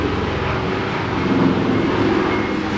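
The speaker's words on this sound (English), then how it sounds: "There hasn't been a chopper that flew over here in probably months." A helicopter passes overhead, a steady low rumbling drone that fills the clip at moderate loudness with no voices.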